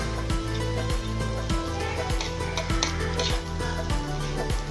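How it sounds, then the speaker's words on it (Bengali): Onions frying in a pan while being stirred, a steady sizzle with a regular scraping and clinking of a utensil against the pan roughly every half second, close and continuous. "এখন নাড়াচাড়া করতেছি"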